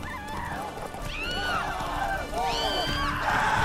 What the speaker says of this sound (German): Sind da wieder die Banditen auf ihren Pferden unterwegs.